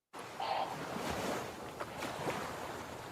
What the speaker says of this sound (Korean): 바다 파도 소리와 갈매기 소리 이렇게 한번 넣어봤어요